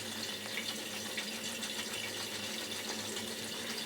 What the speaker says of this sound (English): Then turn the sink on and let the water dribble.